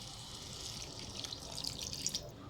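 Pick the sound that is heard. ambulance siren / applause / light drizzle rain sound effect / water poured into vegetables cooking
water poured into vegetables cooking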